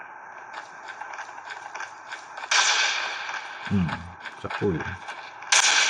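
Sniper rifle shots in Call of Duty Mobile multiplayer, played on a realme 15 5G phone: two sharp, loud cracks stand out from constant game noise, with someone talking briefly in between.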